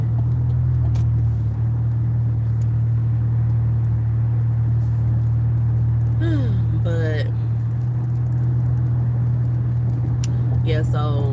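Steady low interior road rumble of a car on a humid day, with a constant drone throughout and brief chirps of other sounds partway through.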